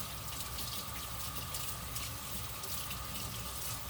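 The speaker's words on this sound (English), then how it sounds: "I'm going to give my hands a quick washing." A kitchen tap runs steadily while hands are rinsed under it during biscuit-dough making, giving a continuous, moderately close hiss of flowing water with no talking.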